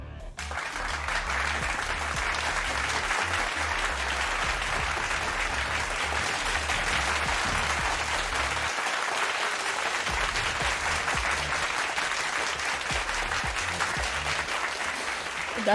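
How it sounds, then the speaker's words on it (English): Applause in a training yard in the video game Girls' Frontline: Neural Cloud, a dense crowd clapping that starts abruptly and carries on loudly and steadily for about fifteen seconds, with no voices on top. "It starts out as a ragged series of claps, but soon it grows into a thunderous ovation"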